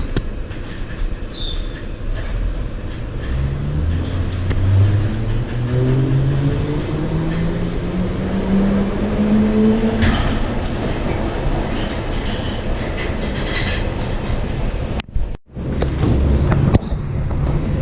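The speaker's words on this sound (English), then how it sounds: "This is a Bakerloo line train to Harrow and Wealdstone." A London Underground Bakerloo line train running toward Harrow and Wealdstone, a loud rumbling ride with rising motor whine as it accelerates and a brief gap near the end.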